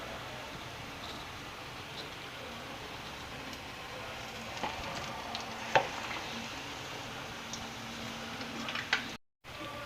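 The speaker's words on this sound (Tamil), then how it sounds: "இப்போ எண்ணெயில் போட்டு பொரிச்சுக்குவோம்." Egg bonda frying in hot oil, a steady low crackle and sizzle running throughout with a few small pops and ticks, fairly quiet and unbroken by talk.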